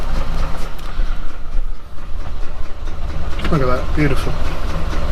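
A Morris Minor engine idling roughly, a steady low rumble running throughout, with someone speaking briefly over it near the end.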